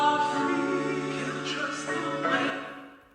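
An iPad Scaler app instrument set to its felt sound plays soft, sustained chords with a gentle reverb wash, quiet and close, fading out toward the end with no talk.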